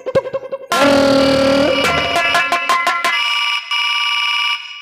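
A ringing bell, part of a Hindi comedy nautanki stage play, sounds in loud, bright, sustained bursts, with a run of sharp repeated strikes before a steadier tone that cuts out near the end.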